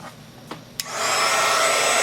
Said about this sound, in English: my heat tool is kind of loud